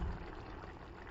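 Water poured into chicken curry cooking in a pan: a short, soft, steady pouring and splashing wash, faint and close, with no talk.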